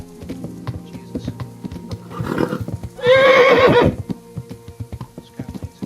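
Horse neighing loudly in the medieval video game Kingdom Come Deliverance: a long, shrill whinny stands out in the middle, set against a steady run of clip-clopping hooves with game ambience underneath.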